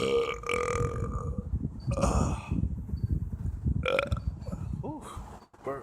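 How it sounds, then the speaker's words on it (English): Repeated loud, drawn-out human burps follow one another over a few seconds, close and prominent, with some voiced grunting mixed among them. "Ooh, burps like crazy."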